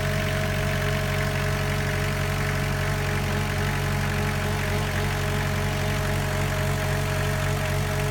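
A machine's engine idling steadily just before shutdown, a constant low rumble with a faint whining tone on top, loud and unchanging for the whole stretch with no voices.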